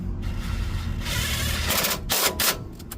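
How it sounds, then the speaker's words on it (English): Rapid clicking of a ratchet and 15 mm socket tightening bolts on a 2004 Ford Explorer, with close, loud metallic ticks running in quick bursts and a few sharper clacks near the end. "grab your 15, and let's tighten these bolts up."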